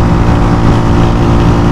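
A Honda CG125 SE motorcycle ridden along the GT Road toward Kashmir, its single-cylinder engine droning loud and steady with heavy low rumble and wind noise close to the microphone, no pauses or gear changes.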